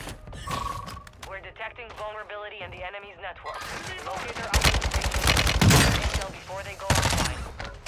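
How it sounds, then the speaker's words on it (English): Loud bursts of rapid automatic gunfire in a first-person shooter crack close by in the second half, following quieter voices and game sounds early on. "Someone's shooting me here, though."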